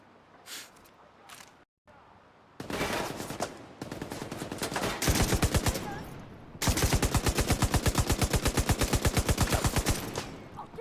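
Video game gunfire: single shots give way to sustained rapid machine-gun bursts, loud and close, continuing steadily for several seconds.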